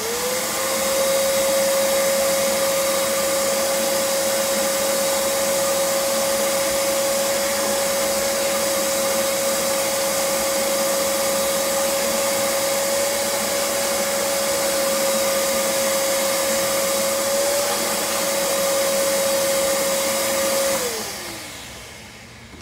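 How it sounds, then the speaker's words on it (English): Shop vacuum suctions loose blast media out of the window seal of a Harbor Freight sandblast cabinet, a loud steady whine holding for about twenty seconds before winding down as it switches off. "so we'll go ahead and vacuum that up"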